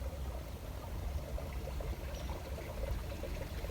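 Flowing water of the Navasota River in Mexia, Texas, a steady rushing stream sound, continuous and fairly full without voices.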